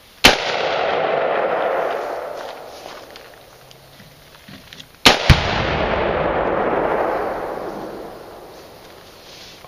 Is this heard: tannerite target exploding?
yes